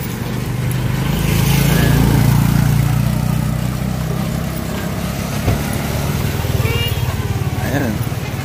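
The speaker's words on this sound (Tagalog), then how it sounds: "may naririnig akong tricycle sa likod." A motor tricycle passes behind at Baler Bay on a busy weekend, its engine drone swelling and fading under steady talk and crowd noise.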